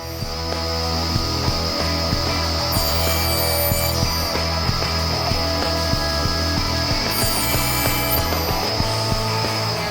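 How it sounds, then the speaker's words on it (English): A table saw cuts tenons in wood using a custom tenoning jig, giving a continuous loud motor whine with a steady hum, a high-pitched cutting rasp that rises twice and faint rhythmic clicking. "I stood them up on end with a custom tenoning jig I built for the table saw"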